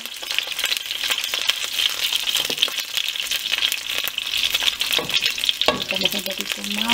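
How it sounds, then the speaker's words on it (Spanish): Mutton pieces browning in hot oil for adobo-style rib dish, a steady loud sizzle and crackle throughout with occasional scraping and stirring clatter in the pan. "Y aquí está mi carnero. Entonces ya empiezo a dorar esto."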